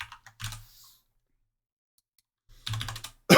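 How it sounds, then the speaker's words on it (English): Bursts of keyboard typing, a quick flurry of clicks, then silence, then another rapid burst of keystrokes close by. "Yeah, people typing."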